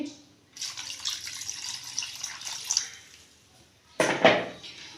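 A glass of water is poured into a cooking mutton liver mixture, a gentle splashing pour running for a couple of seconds, then a short louder splash and rattle near the end, all up close.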